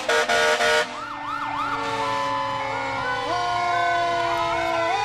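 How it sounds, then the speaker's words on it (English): Fire truck sirens wail in a line of engines at an autumn parade, several overlapping rising and falling tones sounding close and loud after a brief burst of louder noise at the start. "We've got quite the line of fire trucks here as well."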